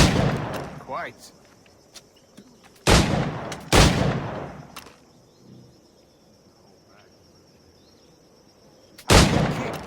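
Three loud, sharp firearm blasts from the game Assassin's Creed 4 Black Flag, spaced apart, with a faint ambient hum and crickets between them. A voice speaks briefly near the start.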